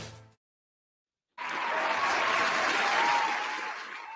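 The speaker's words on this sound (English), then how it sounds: "Did the applause work?" Applause sound effect played during a morning motivational live show, a short voice fragment giving way to silence, then a burst of dense clapping that swells and holds before easing slightly at the end.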